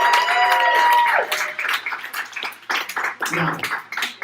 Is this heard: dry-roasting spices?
no